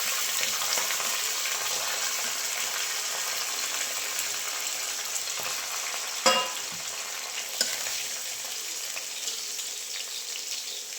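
Mustard seeds and garlic sizzle steadily in hot oil, a close and even frying hiss that continues throughout, broken by a sharp crackle or two partway through, with no talking.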